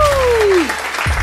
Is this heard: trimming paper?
no